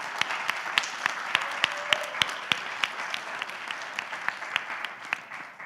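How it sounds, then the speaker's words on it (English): Sparse audience applause for a panel at a Fanhita 2023 island conference, a dozen or so distinct claps ringing out in a loose, slowing rhythm over a soft room background, fading toward the end. "can we give our panel a round of applause?"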